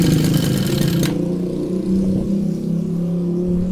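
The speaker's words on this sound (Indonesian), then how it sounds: "Jadi kalau kalian di laut sangat mudah sekali untuk hidupin mesin ini." A small outboard motor mounted on a kayak runs loudly and close by with a steady, buzzing mid-pitched drone. A brief, sharper clatter at the start settles into an even idle.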